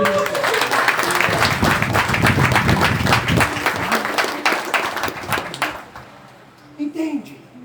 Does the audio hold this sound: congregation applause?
yes